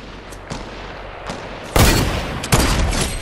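Sniper rifle shots in the video game Fortnite: two loud, sharp blasts with a rolling tail, a second apart, after a few fainter distant pops.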